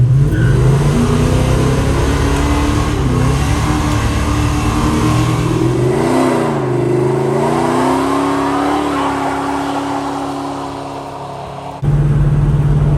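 A Dodge D150 short-bed pickup engine with a Flowmaster exhaust revs hard for a burnout and holds high, its pitch rising and wavering, then drops abruptly back to a rough idle near the end.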